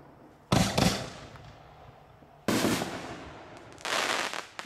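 Firework artillery shells from a 1st Class Artillery Shells set bursting in loud, sharp crackling blasts, three separate breaks a couple of seconds apart with fizzing tails between them, close and without talk.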